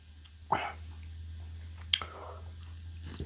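Soft, close mouth sounds of someone chewing shell-less Pops Exotic Skittles candy, with a couple of brief sharper clicks over a low steady hum.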